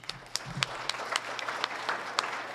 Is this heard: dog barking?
no